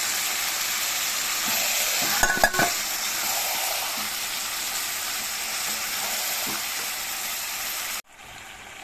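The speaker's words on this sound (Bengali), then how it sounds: "মাংসটাকে একটু ভাজা ভাজা করে নেবেন" A pan sizzles steadily as chicken is stirred and fried, with a few scraping clatters early on before the sound cuts off abruptly near the end.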